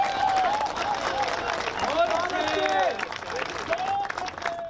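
A crowd at a comedic poetry show aboard a boat on the Hooghly River claps steadily. The applause sits under a speaker's voice, which carries across most of the stretch.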